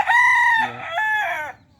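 A rooster crows once at close range, a loud, rising-then-falling cock-a-doodle-doo in a chicken yard, standing alone.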